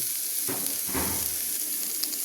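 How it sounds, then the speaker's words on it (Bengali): Panch phoron spices and dry red chilli sizzling in hot oil, a steady close hiss of frying with a brief stir partway through, no voices. "পাঁচফোড়ন দিয়ে দেবো, একটু শুকনো লঙ্কা দিয়ে দেবো।"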